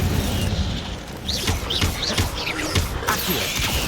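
Fiery spell bursts from the Incendio charm in the game Hogwarts Legacy, a series of booming, crackling blasts over dense background game noise, with faint in-game voices.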